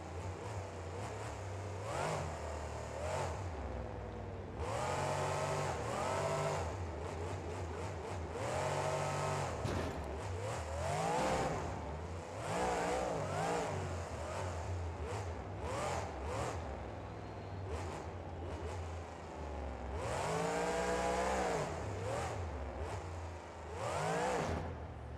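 A monster truck engine revs and roars through a freestyle run in the BeamNG video game, loud bursts of acceleration rising and falling repeatedly with steady engine drone between them and no talk.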